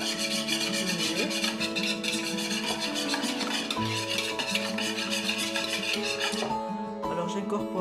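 Eggs being mixed in a bowl for a strawberry tiramisu make a continuous scraping, rasping whisk sound against the bowl, heard close up over background music.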